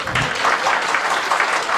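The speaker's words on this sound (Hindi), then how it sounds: "एक बार तालियां बजा देंगे आप लोग क्या?" A comedy poetry audience applauds steadily, a dense wash of many hands clapping at once, sustained and fairly loud throughout.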